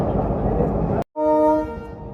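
An Ovijatri Commuter train at Keraniganj railway station sounds a steady, loud horn blast of about a second after a burst of broadband station noise, with a short silent gap between them.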